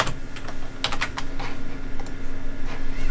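Rapid, irregular clacking of keys on a computer keyboard, close by and steady, with a faint constant hum underneath and no talking.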